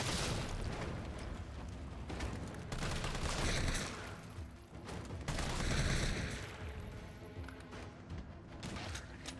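Grenade launcher fire and blasts against hunter creatures in the Resident Evil 3 Remake video game: dense, rumbling booms and gunfire swell twice over a continuous noisy game soundscape, with no voices.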